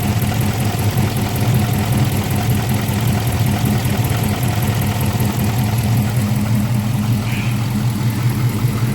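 A Hemi V8 with long tube headers and a newly installed intake manifold idles steadily in a garage while warming up, a continuous deep, even rumble with no voices.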